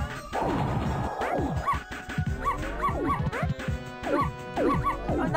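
Robot puppies bark and yip in a Powerpuff Girls video game, with repeated sharp electronic barks in quick bursts over busy game music and crash effects.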